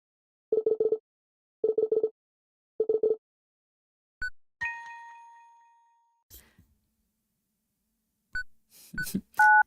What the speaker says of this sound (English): I couldn't figure out how to dial a number.